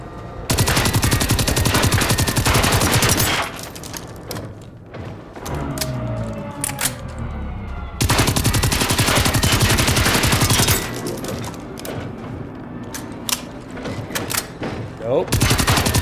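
Rapid sustained automatic gunfire shooting at machines in Generation Zero, two long loud bursts separated by scattered single shots, thuds and debris.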